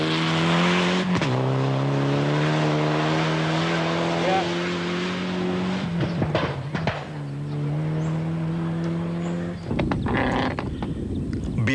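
A Subaru Impreza rally car engine revs hard on a special stage at the 1998 Petronas Malaysian Rally Championship in Selangor, loud and close with gear-shift drops and rising pitch, tire noise and a commentator talking over it.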